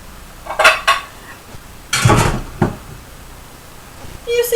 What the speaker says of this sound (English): let me get one of my glass dishes